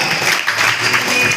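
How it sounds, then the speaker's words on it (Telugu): Loud, dense clapping from a church congregation honouring a pastor's family at a Christmas Eve service, a steady wash of applause lasting throughout with no pauses. "దైవజనుల కుటుంబాన్ని గౌరవిస్తూ ఉండగా ప్రేమతో చప్పట్లు కొడదాం"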